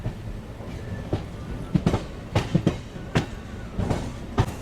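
A MEMU express train pulls into Nellore station, its wheels knocking over rail joints in a steady clickety-clack with a continuous rumble beneath.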